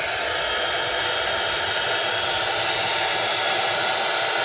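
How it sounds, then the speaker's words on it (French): A heat gun switched on for card making blows a loud, continuous, even roar close by, a steady broadband rush with a low rumble underneath and no pauses. "mon pistolet chauffant, pardon, je l'allume. Et donc, ça va faire du bruit."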